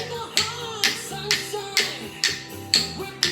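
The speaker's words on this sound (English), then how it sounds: "you can just clap your hands or tap on your knees as well" Hands tap on knees in a slow, even beat, with crisp, regularly spaced taps about twice a second over soft background music, close and clear.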